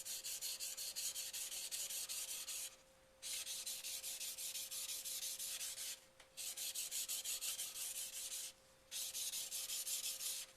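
A hand-sharpened Takeda knife's hard metal is ground on a stone in long, even rasping strokes, close and loud, repeated in four passes separated by brief pauses.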